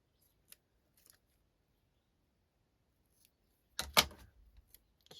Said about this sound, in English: I have to cut down the edges.